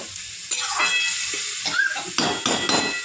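A pot of curry is covered with a lid, bringing a few sharp metallic clanks over a soft sizzle and hiss of cooking, close and without talk.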